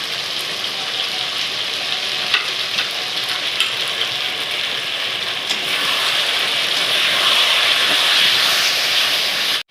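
Chicken and spices sizzle steadily in a pan for Bengali chicken kosha, a loud, continuous hiss with faint scraping ticks and no talking throughout.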